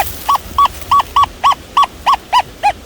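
Deus 2 metal detector sounding on a coin-like target: a run of about ten short, evenly repeated electronic beeps, fairly loud and near, with faint outdoor background and no talking.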